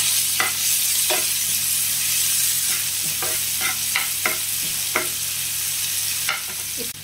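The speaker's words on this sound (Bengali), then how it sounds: "এবার এটাকে ভালো করে ভাজতে হবে।" Masala for a Bengali dhaba-style mutton curry fries loudly in a pan, its constant sizzle broken by regular scraping strokes of a spatula stirring it close by, with no voices.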